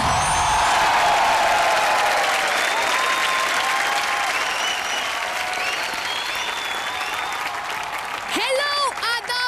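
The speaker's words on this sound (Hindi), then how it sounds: "जोरदार तालियों से स्वागत कीजिए" Loud audience applause and cheering at a Christmas special comedy show, a dense wash of clapping that fades slightly toward the end as a voice and music begin.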